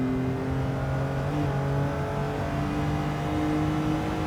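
A BMW Z4 3.0i engine in Gran Turismo 7 revs steadily as the car accelerates in third gear. The loud, continuous drone holds rising harmonic tones and runs alone, with no talking.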